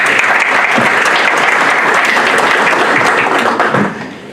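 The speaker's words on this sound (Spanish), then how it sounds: "Lo recibimos con un voto de aplausos" An audience at a session of the Callao Superior Court breaks into loud, steady applause, dense clapping from many hands that holds for about four seconds before trailing off.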